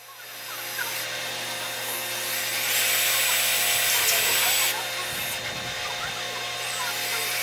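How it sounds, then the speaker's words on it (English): A power drill with a 1/8 inch bit bores a starter hole through tape on metal while building welding cart handles, giving a steady close whine that swells in the middle and continues to the end. "We'll use an 1/8 inch drill bit to make our starter hole."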